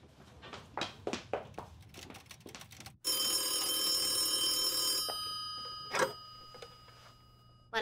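A telephone bell rings in one continuous metallic burst lasting about two seconds, after a series of soft knocks, with quiet room sounds following.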